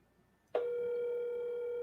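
A telephone busy signal comes on suddenly during a call to Haiti, a steady, clear electronic tone holding without a break after a moment of near quiet.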